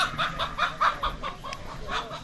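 Chickens cluck in a Chakma hill village in the Bandarban hills, Bangladesh, where goats, hill cattle and ducks are kept; a run of short, moderately loud clucks repeats steadily over faint background noise.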